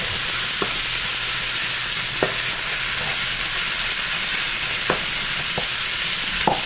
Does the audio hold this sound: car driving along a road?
no